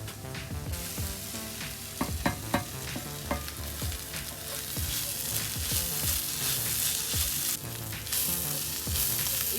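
Fish egg scramble sizzles steadily in a pan over a slow flame while a spatula stirs and scrapes it, with sharp clinks and taps over a constant hiss that grows fuller toward the end.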